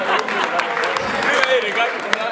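Guests clap at a baptism and birthday party, a brief dense patter of applause from a small crowd with voices talking over it.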